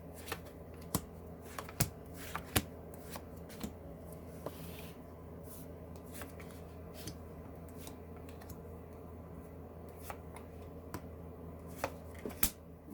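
A Muka tarot deck is shuffled by hand, quiet irregular card riffles and soft taps with occasional sharper clicks over a faint background hum.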